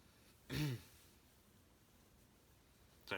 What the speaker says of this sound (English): so I have to clear my throat